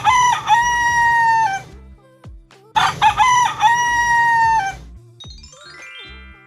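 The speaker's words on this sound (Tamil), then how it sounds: "சேவல் கூவும்." Rooster crowing, two loud, close cock-a-doodle-doo calls in succession, each drawn out and ending in a falling tail, with a brief quiet gap between them.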